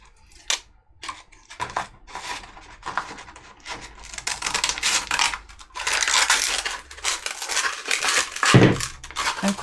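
Scissors snip and crunch through stiff armour-building material in irregular close cuts, growing denser and louder toward the end.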